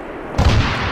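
An ArmA 3 artillery fire mission strike lands as a single deep, heavy boom. It breaks sharply out of low background noise, then rumbles on loudly to the end of the clip.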